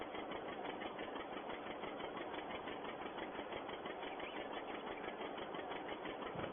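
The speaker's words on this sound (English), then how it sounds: "John Deere working pretty well on the rake" A John Deere tractor works a hay rake in a hayfield, its engine running in a steady, continuous drone with a rapid mechanical chatter, loud and close throughout with no voices.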